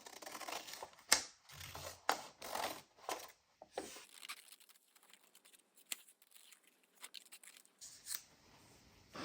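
Scissors cutting out a small paper heart, a series of quiet close snips and crisp crunching cuts in irregular bursts, with faint rustling of paper between them.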